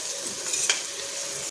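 Chopped tomato and other ingredients sauté in a pan with a soft, steady sizzle, and a single spoon stroke scrapes across the pan midway.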